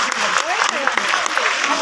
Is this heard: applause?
yes